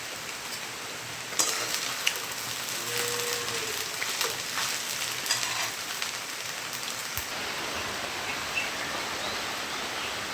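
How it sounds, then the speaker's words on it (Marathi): Steady rain patters down in a continuous wash of hiss, with a few louder drips standing out near the start. "आज चक्क पाऊस पडत आहे"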